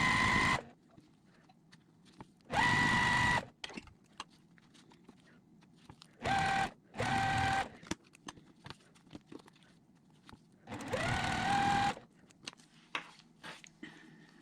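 A sewing machine stitches quilt blocks together in short bursts of whirring motor and needle chatter, each lasting about a second, separated by quiet gaps with small handling clicks and taps nearby.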